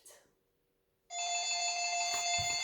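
A telephone rings in an office, a bright electronic ring starting abruptly after a moment of quiet and continuing loudly to the end.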